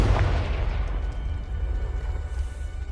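A Confringo fire spell detonates in Hogwarts Legacy, a heavy boom at the start with a deep rumbling tail that fades slowly over a few seconds.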